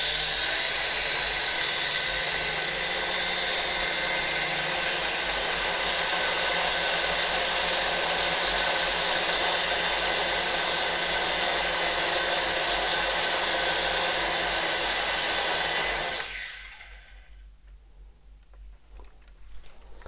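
A Mould King Super-S motor spinning a propeller on a bench thrust test gives a loud, steady high-pitched whine that holds for about sixteen seconds, then cuts off abruptly into near silence.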